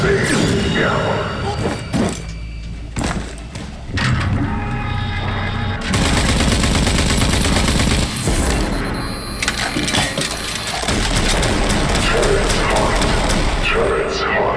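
Turret gunfire in RAGE 2: loud, sustained automatic bursts with metallic clinks and thuds, broken by brief pauses, mixed with game effects and a voice talking.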